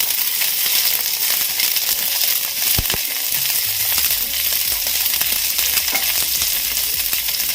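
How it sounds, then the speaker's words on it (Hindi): Green chili and garlic sauté in hot oil in a pan, giving a loud, continuous close-up sizzle, broken by a few clinks and scrapes of a spoon stirring. "इसको सॉटे कर लेंगे हम।"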